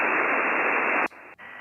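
Steady hiss of HF ham radio receiver static on the 10 metre band, loud and continuous for about a second. It then drops abruptly to a quieter hiss with a brief dip, and no voices.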